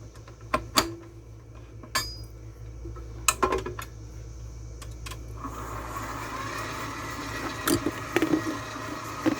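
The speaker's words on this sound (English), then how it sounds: "what we're going to do now is mix this up and cream this together" Butter and brown sugar are being creamed together in a bowl, with scattered clinks and scrapes of a utensil against the dish, then a steady continuous whir of mixing that fills the second half.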